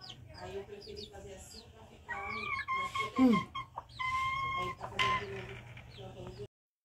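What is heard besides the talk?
hen clucking and pecking chicks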